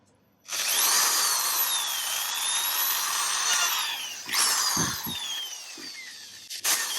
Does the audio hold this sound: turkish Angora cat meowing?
no